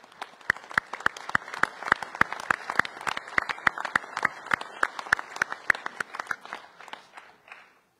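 Audience applause at a town's January 2024 New Year's address by the mayor and council: scattered, distinct hand claps at a moderate level, a modest crowd clapping steadily before the sound thins and fades out.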